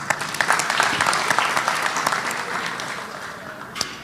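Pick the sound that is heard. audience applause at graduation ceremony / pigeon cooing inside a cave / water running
audience applause at graduation ceremony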